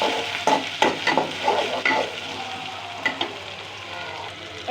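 Chopped shrimp dropped into a pan of browned onions, crackling sizzle with several clattering stirs of a utensil early on, settling into a steadier frying hiss.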